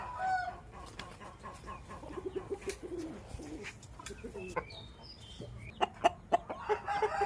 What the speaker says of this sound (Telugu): బాగా మంచి కోడిపుంజు అండి.